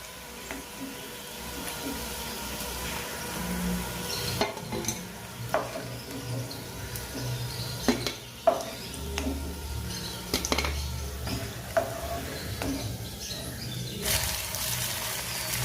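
Green plantain slices for a South Indian vazhakkai fry sizzling steadily in a pan of oil, with occasional sharp scrapes and taps as the pieces are turned over.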